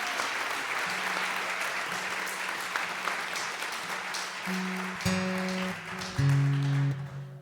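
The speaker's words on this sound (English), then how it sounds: "Keep on clapping." An audience claps steadily at a live songwriter music event near Nashville, with low sustained instrumental notes entering and growing louder under the applause.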